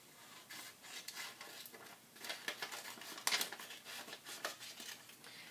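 Scissors slicing a square of origami paper in half: quiet, papery rasping snips and rustles, with one crisp, sharper cut partway through and no voices.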